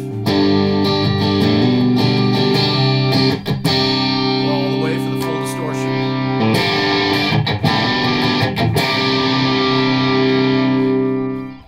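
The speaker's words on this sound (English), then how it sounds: "if I hit a chord and I roll the volume knob down, it's going to clean up" A distorted electric guitar chord through a Digitech RP1000 amp modeler rings out and sustains, restruck a few times, then cleans up as the volume knob rolls down, fading at the end.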